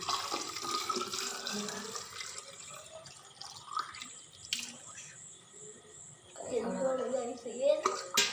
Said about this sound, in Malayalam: അവിടെ വെള്ളം